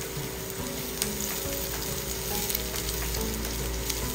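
Browned garlic and onion fry in a pan with a continuous bright sizzle and occasional small pops, close and steady throughout, with no voices.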